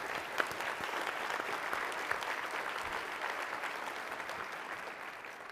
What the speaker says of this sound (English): can we all give them one more round of applause?